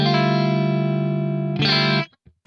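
A Stratocaster electric guitar played through a Fractal AX8 with a clean tone rings out loud and sustained, a strong held chord, then a brighter restrike that cuts off abruptly with a faint trailing note.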